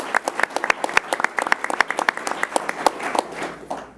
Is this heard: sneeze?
no